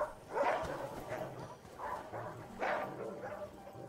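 A dog in the video game The Red Lantern gives a few short, moderately loud yips and whimpering barks at irregular intervals over quiet background noise.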